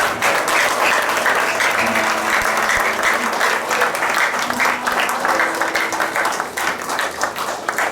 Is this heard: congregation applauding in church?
yes